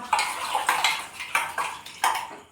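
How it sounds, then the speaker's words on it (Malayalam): Dishes being washed, with repeated clinks and clatters of plates and utensils in an uneven rhythm, fairly close, with no talking. "നമ്മളവിടെ പാത്രങ്ങളൊക്കെ കഴുകുന്നുണ്ട് കേട്ടോ."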